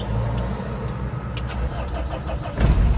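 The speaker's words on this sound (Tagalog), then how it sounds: "ngayon may start na natin yung sasakyan" A car engine starts and settles into a rough, rumbling idle close by, with a brief surge in revs near the end and no talk over it.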